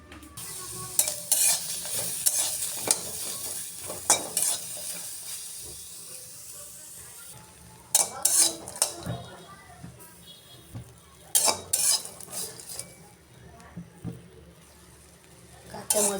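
Green chilies and garlic fry in a pan, giving a soft steady sizzle and hiss broken by repeated sharp scraping stirs and clatters, fairly close, with occasional voices in the background.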